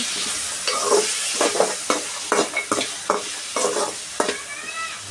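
Carrots fry with a little salt in a pan, a steady loud sizzle punctuated by a rapid series of scraping stirs and clatters close by.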